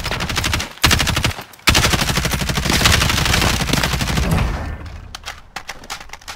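Rapid bursts of automatic gunfire from a video game shooting match, loud and dense with a few short gaps, then thinning into scattered single shots near the end.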